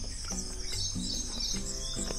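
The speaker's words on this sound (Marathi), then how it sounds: "रात्रभर वेगवेगळ्या पक्ष्यांचे आवाज येत आहेत." Several birds chirp and call in short repeated bursts over a steady high insect-like drone in jungle near Madnapur Gate, with no talking.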